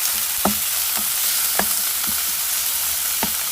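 Chicken cooking in a pan with garlic ginger paste over a low flame gives a steady soft sizzle, with several brief scraping stirs spaced across it and no talk.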